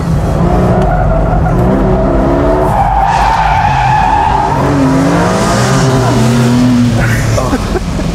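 A Porsche mid-engine sports car, a 718 Spyder, drifts with loud, sustained tire skidding and squeal over a steady engine note, continuous and close throughout.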